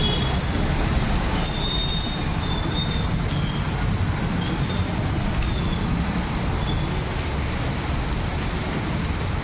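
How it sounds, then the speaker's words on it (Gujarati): Heavy rain pours down without a break, a dense, even roar of falling water with faint high tones above it and no voices. "વરસાદ વધતો જાય છે, બંધ થવાનું તો નામ લેતા નથી"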